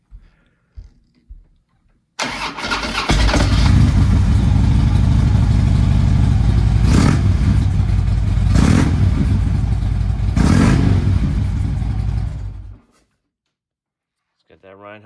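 A 2009 Harley-Davidson Street Glide FLHX fires up after a few clicks, catching with a loud rumble and settling into a deep, loping idle with a few throttle blips before shutting off.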